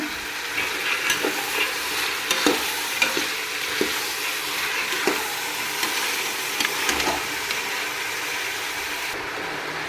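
Mixed vegetables and soaked dried peas fry in oil for hotel-style vegetable pulao, a loud continuous sizzle with steady scraping and clinking of a spoon stirring close up throughout.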